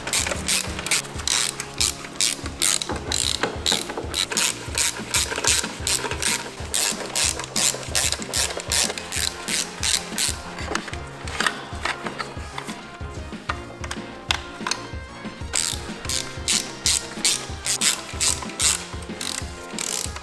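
A ratchet tightening bolts on a V10 TDI engine, rapid repeated clicking strokes in steady bursts, close and loud, with short pauses between runs.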